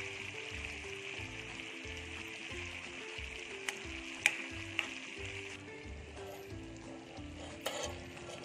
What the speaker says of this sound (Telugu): మళ్ళీ మనం నూనె దాంట్లో పోసేస్తాం పచ్చళ్ళు.